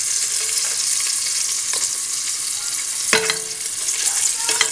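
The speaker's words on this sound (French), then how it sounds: "faire suer les oignons" Chopped onions sweating in a pan for turkey stuffing, a steady close sizzle with a few sharp clicks and scrapes from stirring, no talking.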